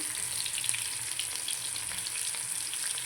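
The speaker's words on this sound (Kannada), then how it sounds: "ಒಂದು ಬಾಡಲೆ ತೊಗೊಂಡು ಎಣ್ಣೆ ಇಟ್ಟಿದ್ದೀನಿ ನೋಡಿರಿ ಅದಕ್ಕೆ ಈರುಳ್ಳಿ ಹಸಿಮೆಣಸಿನ್ಕಾಯಿ ಸ್ವಲ್ಪ ಸಾಸಿವೆ" Onion, green chilli and mustard seeds frying in oil in a pan, a steady close sizzle with faint crackles throughout, no talking.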